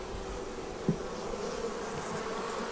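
Honey bees buzzing around an open hive during a queen replacement, a soft continuous drone from many insects, fairly faint and steady with one brief nearby tap.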